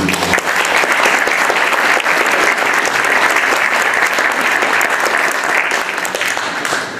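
An audience at a New Year's greetings ceremony applauds steadily and loudly, a dense, continuous clapping that fades slightly at the end.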